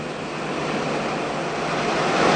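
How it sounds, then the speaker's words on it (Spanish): Ocean waves rolling toward the shore, a broad continuous wash of surf that stays loud and swells slightly near the end, with no voices. "todas las olas disminuyen su velocidad a medida que se acercan a tierra."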